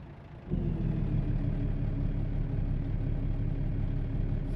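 A heavy truck engine rumble in American Truck Simulator kicks in and holds a steady, loud drone, revving in place, with no voices.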